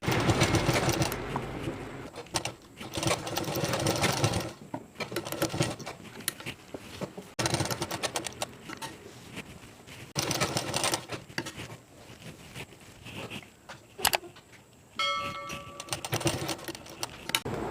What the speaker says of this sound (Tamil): நான் இப்போ தைச்சு காட்டுறேன்.